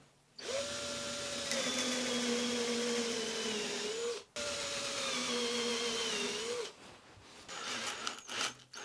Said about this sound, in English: Try to drill straight if possible.